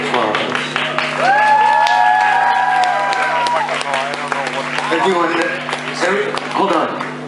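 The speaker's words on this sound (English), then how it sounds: "On the bass guitar. Let's have a round of applause." Concert crowd at a live show applauds and cheers for the bass guitarist, clapping and whoops mixed with sustained tones and a voice shouting over the noise.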